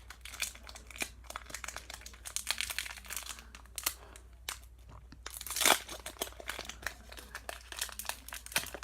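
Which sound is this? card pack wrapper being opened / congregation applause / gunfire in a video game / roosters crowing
card pack wrapper being opened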